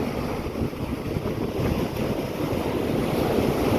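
Strong sea wind and waves on Payoon Beach in Ban Chang, Rayong, at dusk: a steady close roar of surf mixed with gusty wind buffeting the microphone, with no voices.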